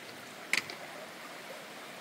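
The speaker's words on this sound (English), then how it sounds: "there's been a lot of these little streams before we even hit Bemis" A small stream flows along the Appalachian Trail with a faint, steady broadband rush of water, a brief clink or splash near the start, and no voices.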